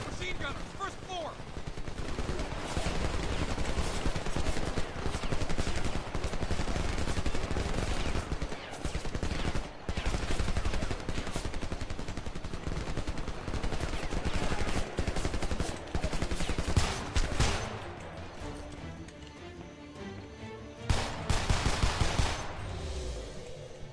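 Machine-gun fire rattles through a Homefront PC firefight in repeated loud, sustained bursts with short gaps, dense and close, with brief pauses near the end before firing resumes.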